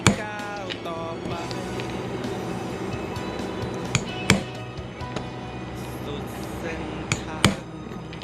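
A leather pricking iron is struck with a hammer to punch stitching holes in leather, giving sharp, loud, spaced knocks over a quiet background with faint ringing between blows.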